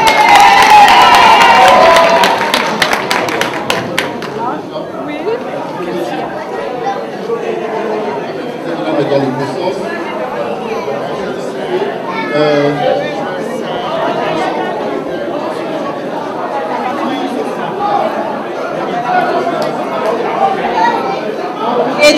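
Applause and cheering from the audience at the 2022 tropical carnival queen election in Colombes, France, burst loudly at first and then settle into a steady crowd murmur with scattered claps and voices.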